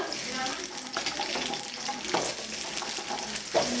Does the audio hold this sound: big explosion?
no